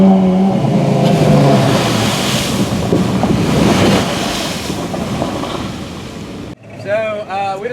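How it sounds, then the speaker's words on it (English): A 1983 Land Cruiser and a 2006 Range Rover plough off-road through a large mud puddle, a loud, steady churning wash of water and engine noise that fades before a short burst of voices at the end. "we just went through a rather large mud puddle"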